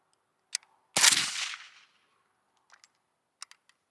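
AK-pattern rifle chambered in 5.56 with a KNS adjustable gas piston firing outdoors: one sharp, loud shot with a brief ringing tail, a faint click before it and small mechanical clicks afterward.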